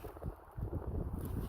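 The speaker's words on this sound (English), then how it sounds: "Sorry about the wind." Wind gusting on a mountainside in the high desert, buffeting the microphone with loud, rumbling low-end noise that swells and dips through a short stretch, with no voices.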